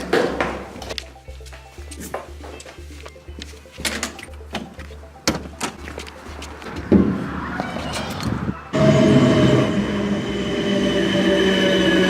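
Train moving through a train station, with a steady low rumble and repeated clattering knocks, then a louder broadband roar of the carriage rising near the end.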